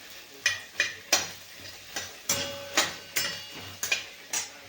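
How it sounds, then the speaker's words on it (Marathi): Okra being stir-fried in a pan, with a soft sizzle under repeated rhythmic scrapes and taps of a spatula, about ten strokes, close and fairly quiet. "भेंडी टाकून आपल्याला हे चांगली थोडीशी परतून घ्यायची आहे"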